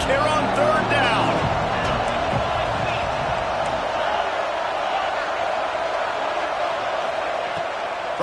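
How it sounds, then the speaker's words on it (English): A stadium crowd roars and cheers on third down in the College Football 26 video game, Auburn's home fans making a loud, steady swell under a commentator's voice. "This Auburn crowd trying to conjure up a little magic here on third down"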